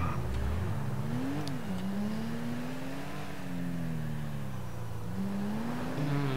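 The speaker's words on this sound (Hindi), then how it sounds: "थोड़ा भगा के देखेंगे गाड़ी को, 150 से ऊपर तो जानी चाहिए।" Engine note of a car in GTA 5 gaining speed on a highway, a steady droning rev that climbs and dips slightly, loud and continuous with no talk.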